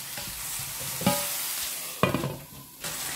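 Aubergines cooking in a pan with olive oil for an aubergine chakchouka, a steady close sizzle broken by a couple of sharp stirring scrapes and clacks.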